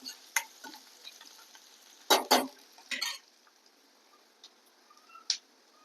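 Gram-flour pithla stirred in a pan, a few scraping strokes of a spoon against the pan with brief pauses between them, close and moderately quiet.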